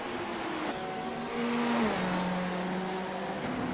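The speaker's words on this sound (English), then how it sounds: "Car going by him" A race car on the Barber circuit during an endurance race, its engine note holding steady then dropping in pitch as it passes at moderate distance under steady track noise.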